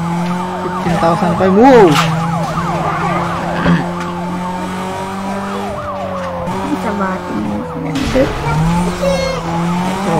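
Police car sirens wail over revving engines and collision noises in the Need for Speed Most Wanted racing game, loud and continuous, with a voice speaking briefly over the action.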